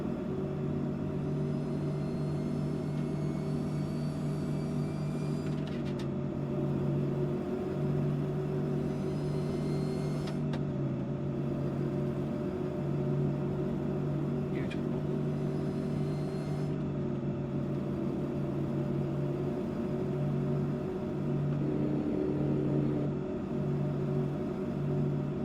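A heavy truck in American Truck Simulator, hauling a load, drones with a steady low engine rumble as it works through its gears, with brief shifts and pitch changes, running alone without speech.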